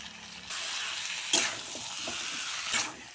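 Chicken with salt and slit green chillies frying in a pan, a steady close sizzle with a couple of sharp stirring scrapes.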